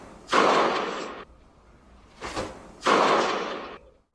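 Two sharp, loud leathery smacks of a baseball landing in a catcher's mitt, with a quieter one between them, each followed by a brief fading tail.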